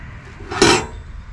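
A small metal grate is set down into a DIY ammo box firepit, giving one short, loud metallic clank with a brief ring, alone and close.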